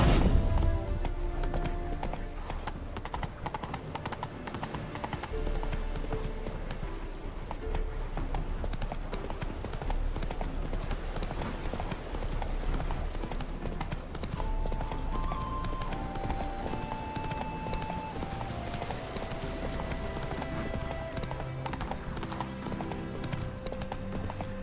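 Horse hooves clip-clop steadily in the video game The Witcher 3, a continuous rhythmic trot running the whole way under game music and ambience, with a faint whinny possible.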